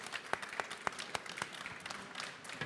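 Conference audience applauding at the close of a logistics round-table, a thin scatter of distinct hand claps rather than a full ovation, moderately loud and alone.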